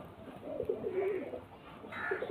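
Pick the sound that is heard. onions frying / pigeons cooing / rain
pigeons cooing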